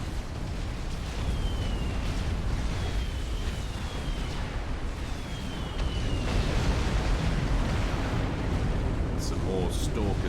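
A torpedo launcher blows up during a Supreme Commander ladder match, a fairly faint, rumbling explosion that spreads into a sustained roar mixed with other battle noise.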